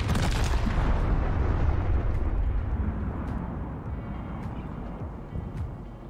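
Gunfire in Call of Duty: Modern Warfare multiplayer starts as a loud burst of deep booming shots, then fades into a rumbling tail with a few faint distant cracks.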